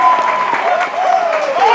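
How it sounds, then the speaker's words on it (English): A football crowd at a semi-professional soccer match at Kingston Heath cheers and applauds loudly and continuously, a dense wash of clapping and shouting with a few whistling tones drifting through. "The crowd tells the story."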